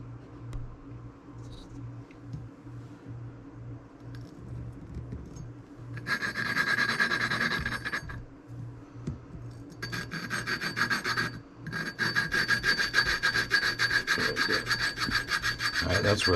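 A small valve is lapped into a Honda XR50 cylinder head, the rough, raspy grinding coming in close bursts of rubbing strokes, pausing between spins, with the rasp growing brighter as the seat cleans up.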